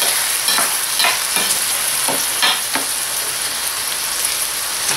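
Onion, garlic and tomato sauté in a hot pan, sizzling loudly and steadily while a utensil scrapes and stirs in several distinct strokes, with no talking.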